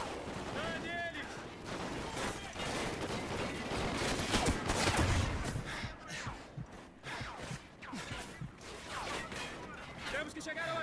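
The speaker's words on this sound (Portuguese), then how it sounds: "Continue atirando!" Bursts of gunfire from a Call of Duty: Ghosts firefight, with repeated sharp shots spread through the stretch beneath raised voices and gasps from characters speaking throughout.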